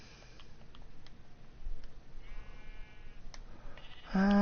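Sheep bleating in the block-building video game Minecraft, a few short cries over quiet clicking game ambience, with one louder bleat at the end.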